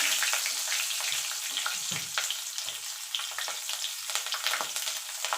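Black cumin seeds and slit green chillies fry in hot oil, a dense continuous sizzle with crackling pops and occasional stirring scrapes, close and fairly loud, no talking.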